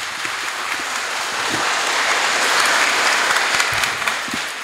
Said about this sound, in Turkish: Hafızımız için de bir kuvvetli alkış istiyorum.